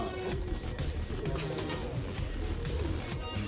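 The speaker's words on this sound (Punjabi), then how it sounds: "ਇਹਨਾਂ ਨੇ ਕਬੂਤਰ ਰੱਖੇ ਹੋਏ ਆ" Soft, repeated cooing of pigeons close by, a steady low burbling chorus with faint background noise.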